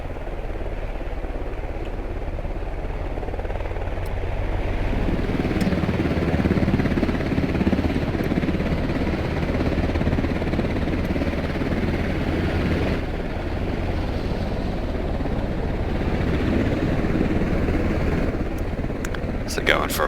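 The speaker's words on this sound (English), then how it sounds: "Let's watch the choppers because they're going to be first into this fight." Helicopters in the Squad video game fly in a steady, loud rotor-and-engine drone that fills the whole stretch, with talk running over the top throughout.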